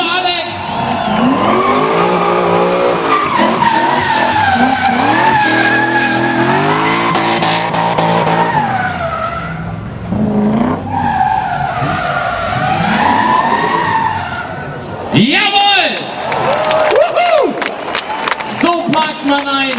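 A drift car with a 5-litre V8 roars and revs hard at a tuning show, its tires squealing in long wailing sweeps, loud and close with a crowd audible behind and an announcer talking over it.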